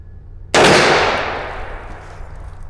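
A single sharp rifle shot cracks loudly at an outdoor steel-target range, its report trailing off in a long, fading echo with no other sound.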